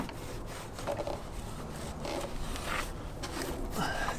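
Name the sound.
wiping a snorkel pre-cleaner with a damp rag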